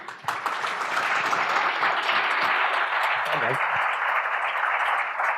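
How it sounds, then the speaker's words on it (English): A conference audience applauds a customer panel, sustained clapping from a sizable room, moderately loud and continuous, with a voice briefly audible in the middle. "let's give them a round of applause, please"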